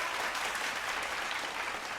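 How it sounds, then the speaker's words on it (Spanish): Church congregation applauding during a Spanish-language sermon, a dense, even wash of clapping from many hands that holds steady throughout. "denle un aplauso al Señor"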